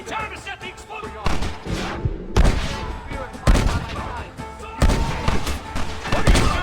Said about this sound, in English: You and I will provide the cover fire.